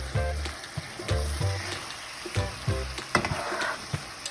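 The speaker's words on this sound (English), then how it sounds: "You just stir it and make sure all your meat is covered with that gravy." Braised taco meat sizzling in a pan of gravy as it is stirred, with crackling frying noise broken by repeated scraping strokes of a utensil against the pan, close and clear, no talk.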